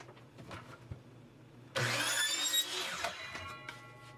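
Small power saw, such as a scroll saw, cutting a logo shape from 1/8 inch plywood, starting abruptly into a steady buzzing whine that runs about two seconds before winding down amid light workshop clicks.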